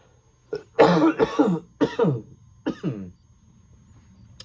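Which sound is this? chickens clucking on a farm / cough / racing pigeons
cough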